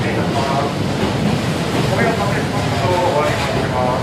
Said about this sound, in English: as we're riding the train.